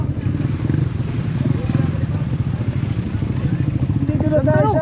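Motorcycle engine running steadily while riding pillion, with a dense rhythmic drone close and loud throughout; voices talk over it and a brief high chirping appears near the end.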